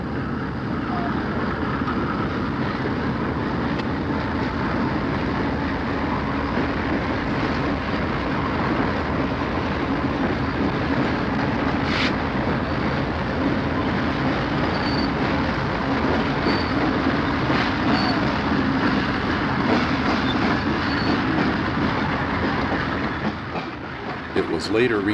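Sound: General Electric U28C locomotive, ex-Pennsylvania Railroad, Conrail train passing

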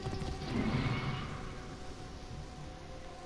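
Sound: horse walking in a video game

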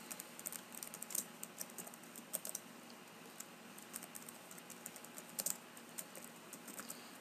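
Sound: typing on a computer keyboard in Microsoft Word

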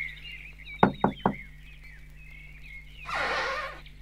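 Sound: knocking on a cottage door

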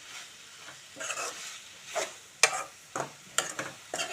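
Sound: chili powder frying and stirred with eggplant tomato curry

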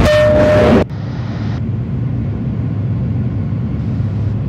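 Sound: R160A subway train running in OpenBVE train simulator game

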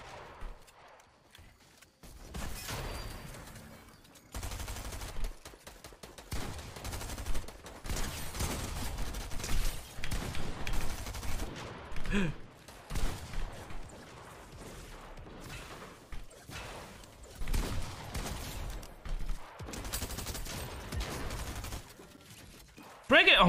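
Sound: gunfire in a video game arena match

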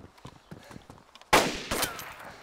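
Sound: gunshots in the video game DayZ

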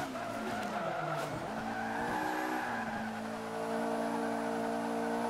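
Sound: Honda S2000 drifting with tire skid in Forza 5 video game

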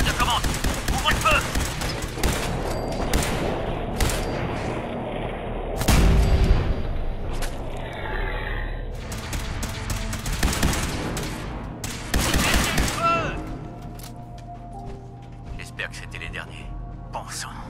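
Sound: gunfire in Fallout 4 video game

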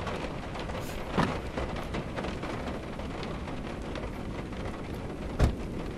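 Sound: rain and thunder storm in Witch's Doll video game

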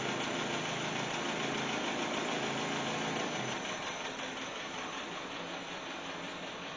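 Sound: Land Rover Series One engine running

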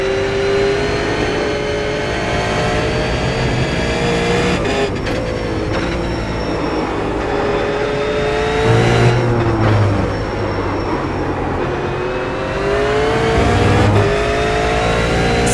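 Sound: V8 race car on Suzuka outlap, from a video game

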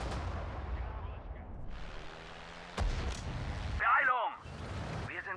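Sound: artillery guns firing in the video game Sudden Strike 4

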